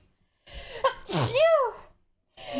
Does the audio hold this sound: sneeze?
yes